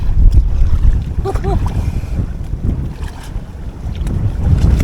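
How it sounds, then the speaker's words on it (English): Strong wind gusts roar across the microphone on the River Ancholme while paddling an inflatable kayak, a loud, constant low rumble with rising and falling surges and a brief voice buried in it. "That wind's really picked up now."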